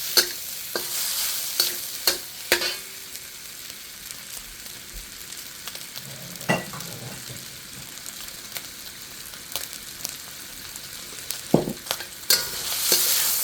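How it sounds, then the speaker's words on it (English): Beef, tomatoes and onion stir frying in an oval wok, a continuous loud sizzle broken by sharp scraping clinks of the spatula against the metal, with no talking. "But stir frying, no matter how you stir fry, because the wok is oval, all the food will come to the center."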